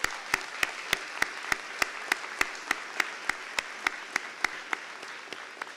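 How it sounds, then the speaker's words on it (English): Clapping at a 2025 high school early college graduation ceremony, a fairly faint, evenly spaced run of about four sharp claps per second that stands out over a quiet hall, with no talk. "A round of applause to them again, please."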